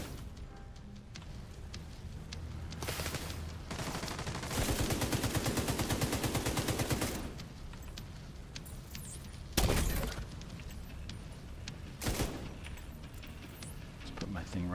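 Dense, rapid bursts of boss gunfire crackle through a video game, with long sustained automatic volleys and occasional sharp booms, fairly loud and continuous throughout.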